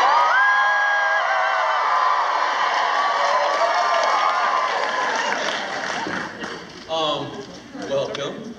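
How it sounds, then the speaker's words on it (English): A large crowd at a comic convention in Portland roars and cheers loudly, a dense wall of voices and whoops that gradually fades into scattered shouts near the end. "everybody raise your arms and cheer as loud as you want to"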